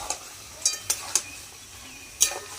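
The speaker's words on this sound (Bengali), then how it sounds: "এবার আমি ভেজে রাখা লোটে মাছগুলো এর মধ্যে দিয়ে দিচ্ছি।" Fried Bombay duck fish pieces added to hot masala in a pan, a low sizzle under a few sharp clinks and scrapes of a utensil against the pan, close and fairly quiet.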